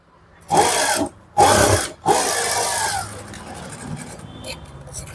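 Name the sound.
sewing machine double-stitching a shoulder seam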